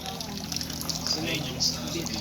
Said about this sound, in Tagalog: Yan, ganyan po magdagdag ng tubig.